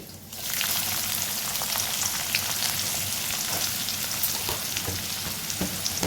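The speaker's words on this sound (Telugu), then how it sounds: "ఇది కూడా వేసుకున్న తర్వాత కొంచెం వేయించుకోవాలి." Sliced onions frying with fennel seeds and cumin in a pan for a methi chaman curry, giving a steady, dense sizzle and crackle throughout, close and continuous with no voices.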